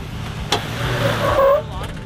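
A Jeep 4x4 without lockers climbs a trail obstacle at a winter 4x4 jamboree, its engine droning and revving briefly at moderate distance while a person talks over it.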